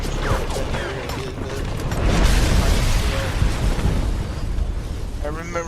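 An explosion in a Defiance 2050 video game cutscene, a broad rumbling blast that swells through the middle and fades out, with a person talking over it near the end.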